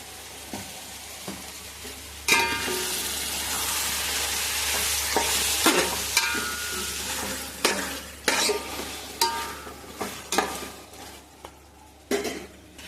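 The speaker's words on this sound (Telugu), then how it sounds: "చికెన్ వేసాక అల్లం తెల్లగడ్డ పేస్ట్ వేసుకున్నాం" Chicken frying with ginger garlic paste, a steady sizzle broken by frequent metal spatula scrapes and clanks against the pan, growing busier and more rhythmic toward the end, close up with no speech.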